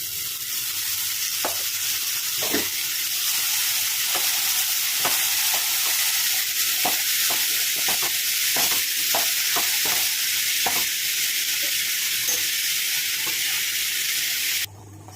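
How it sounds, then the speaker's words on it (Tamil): Palak spinach with tomato, turmeric and salt sizzles steadily in a hot pan while a spoon scrapes and stirs it in repeated short strokes, close and loud, with no voices. "இப்போ கீரை க்ளீன் பண்ணி வச்சுருக்க கீரையை போட்டுருவோங்க"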